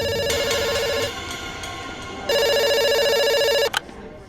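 A telephone rings in a pizza shop, two long electronic ringing bursts separated by a short pause, the second louder and cut off abruptly, heard alone without talk.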